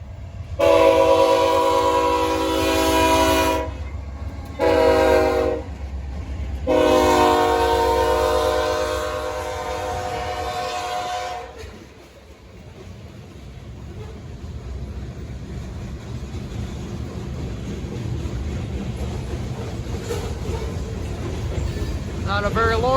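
HO scale model train led by an NS SD40-3 locomotive pulling a short train: a long horn blast, a short one, then another long blast, followed by a steady rolling rumble as the train passes close by.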